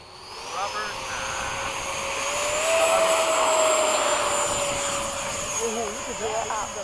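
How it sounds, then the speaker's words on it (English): An F/A-18 jet takes off on twin afterburners, a steady loud roar that swells and then holds, with short bits of radio-style talk over it. "Flaps up. Twin afterburners."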